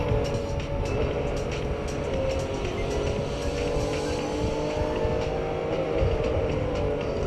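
A car is driven in the video game Neverness To Everness, its engine a steady, loud drone that holds evenly through the whole stretch with no talk.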